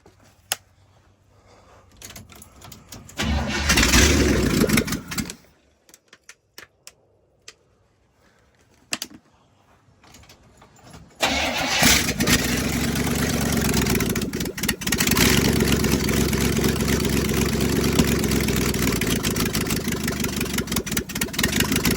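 A squarebody crew cab truck with a carburetor fault starts up. Several short cranks and stumbling catches give brief bursts and a stalled pause, then the engine fires and settles into a loud, steady, rough idle close by.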